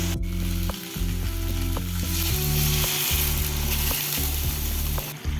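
Onion and tomato paste fries loudly in a pan, a continuous close sizzle marked by repeated scraping and stirring strokes, with no voices.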